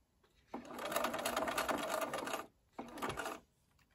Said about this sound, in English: I'll sew right up to this pin